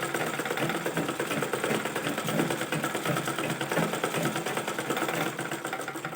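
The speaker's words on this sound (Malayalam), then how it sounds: "ഇനി ഫുള്ളായിട്ട് സ്റ്റിച്ച് ചെയ്തെടുക്കാം" A sewing machine runs steadily while stitching a fabric frill, a fast even mechanical whir and needle chatter held at constant speed for several seconds, with no talk over it.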